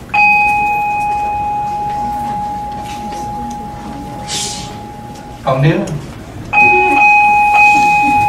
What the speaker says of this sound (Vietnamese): Chuông này là chuông của đình, không phải chuông chùa.